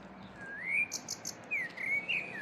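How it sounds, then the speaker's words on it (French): A bird gives short rising and falling chirps and whistles, a few separate calls near at hand, with quiet background hum and no talking. "c'est un oiseau, donc je vais essayer de prendre en photo"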